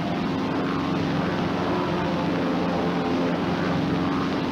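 An airplane engine runs at full throttle during formation flight, a loud, steady propeller drone with a continuous roar and no break.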